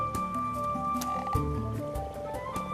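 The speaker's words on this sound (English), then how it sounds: "And the common frogs feel spring fever too." Common frogs calling in spring at their spawning water, a cluster of short croaking and purring calls repeating close by over a faint wet background.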